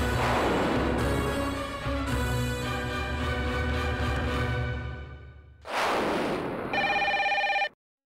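A telephone rings loudly in a household, with bright repeated ringing tones in sustained bursts that stop, pause briefly and start again before cutting off. No voices are heard.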